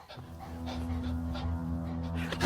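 A dog whimpers and pants close by in a tense standoff, soft whines and breathy sounds over a low steady hum, ending in a sudden louder burst.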